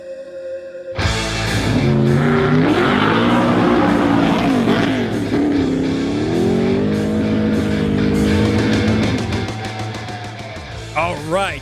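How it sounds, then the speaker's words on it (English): A 1977 Pontiac car engine starts and roars loudly, revving up and down in long sweeps before easing off near the end. "that is his 1977 Pontiac, and it is quite the car"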